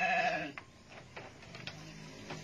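A goat bleats loudly and close at the start of an online lecture, a wavering cry followed by several fainter, shorter bleats over quiet room tone, with no talking.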